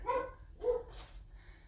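Dogs barking protectively at neighbors at home, two quick close barks followed by quieter trailing sounds, heard alone without talk.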